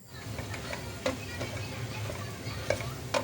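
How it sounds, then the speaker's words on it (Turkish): Low, steady sizzling of carrots, potatoes, cauliflower and broccoli sautéing in olive oil in a pot, with occasional clinks and scrapes of stirring close by. "Hepsini küçük küçük doğrayıp bir güzel kavurdum."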